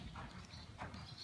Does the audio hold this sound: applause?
no